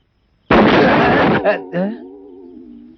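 A comedic explosion sound effect of the ground bursting open: a sudden loud blast with a roaring burst lasting about a second, then brief trailing rumbles and a tonal sweep fading out, with no talk heard.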